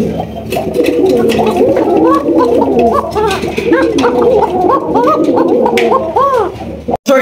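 Fancy domestic pigeons at a breeder's farm coo repeatedly and close by, their rolling, throaty calls overlapping in a steady chorus before ending abruptly.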